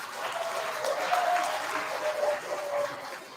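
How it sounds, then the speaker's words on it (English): A school spelling bee audience applauds, the clapping swelling, holding steady and then tapering slightly over a few seconds. "Can you give Miss Recteria a round of applause, guys?"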